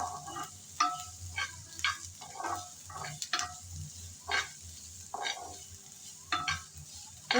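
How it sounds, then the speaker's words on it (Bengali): Chopped onion and garlic being stirred in a frying pan while cooking Malabar spinach: repeated scraping stir strokes at an irregular rhythm over a soft, steady sizzle, close and moderately loud, with no talking. "এখন নেড়ে চেড়ে ভালোভাবে এই পেঁয়াজ আর রসুন ভেজে নিতে হবে।"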